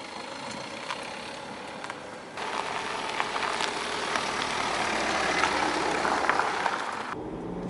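A 2013 BMW 3 Series GT with adaptive suspension is driven away from a hotel, a moderate engine hum and road noise building after a couple of seconds and holding steady, heard from inside.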